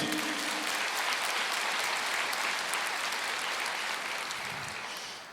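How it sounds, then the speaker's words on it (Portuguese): Church congregation applauding during a Portuguese-language sermon, a dense, steady wash of clapping that holds evenly and then tapers slightly near the end, with no talk over it. "pode aplaudir."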